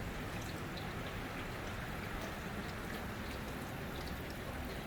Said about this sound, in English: when this rain stops too